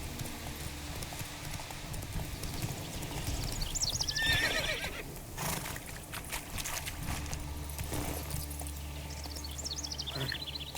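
Roach the horse galloping in The Witcher 3 video game, steady rhythmic hoofbeats close up with a whinny in the middle, over a game ambience that includes some birdsong.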